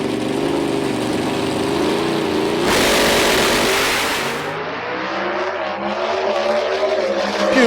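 An Extreme Pro Stock drag race car accelerating hard down the strip at the PDRA World Finals, a loud sustained engine roar that swells, then fades as the car pulls away, with a rising whine toward the end.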